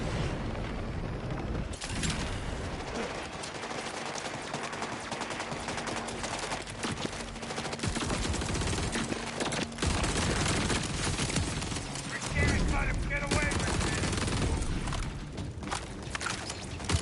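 Rapid, sustained bursts of automatic gunfire from a bullet hoser gun in Borderlands 4, dense volleys rattling almost without pause, with brief gaps and renewed bursts throughout.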